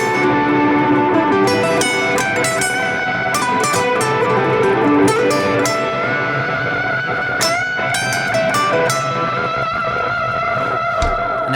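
Electric guitar played through a dual delay effects pedal set for an ambient mix, with sustained notes and chiming picked phrases trailing into a wash of overlapping echoes, with no talk.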